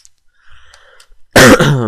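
A single loud cough bursts out near the end after a stretch of near silence with faint background sounds, close and sharp, followed by a ringing tail.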